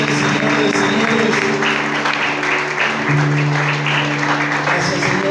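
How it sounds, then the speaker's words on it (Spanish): A church congregation at Iglesia Paz y Bendición claps loudly and continuously in praise, a dense wash of hands over sustained tones from music playing underneath. "Fuerte ese aplauso para el Rey de Reyes y el Señor de Señores."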